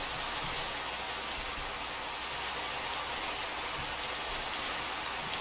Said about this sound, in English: So it is still a raining.